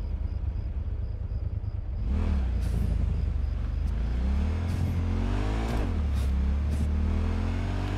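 Car engine in Cyberpunk 2077, driven at night in the rain, rises in a loud rev about two seconds in and then holds a steady, rising engine drone with pitch sweeps, with no talking.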